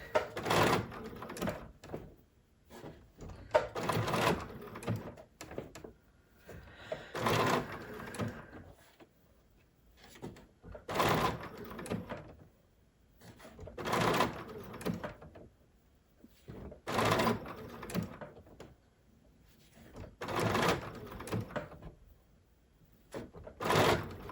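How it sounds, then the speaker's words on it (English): A BERNINA sewing machine stitching in repeated bursts, each lasting a second or two with short pauses between, a steady mechanical whirr and clatter close by with no talking. "Now it's going to do its 3 stitches."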